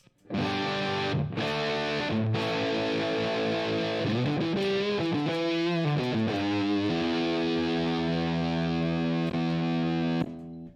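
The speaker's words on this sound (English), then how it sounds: "I've got a heavy distortion." Heavily distorted electric guitar tone played through a Line 6 HX Stomp set to a heavy distortion snapshot, sustained chords and a short melodic passage ringing loud and continuous with no talking.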